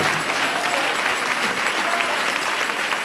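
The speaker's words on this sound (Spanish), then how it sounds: "Dale ese aplauso de alabanza a Cristo." A church congregation applauds in praise, a steady dense wash of many hands clapping together at close range, loud and continuous for the whole stretch.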